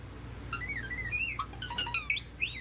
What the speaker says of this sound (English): I think this bird might be malfunctioning.